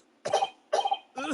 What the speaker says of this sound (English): Coughing up blood again.